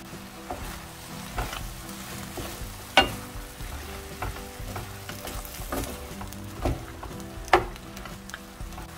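Green onion and hot chili stir-frying in a pan for sundae bokkeum, with a steady close sizzle broken by scraping spatula strokes and a few sharp clacks, no talking.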